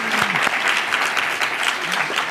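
An audience at a leadership event applauds in a full, steady wash of clapping, with brief voices briefly rising beneath it near the start and end.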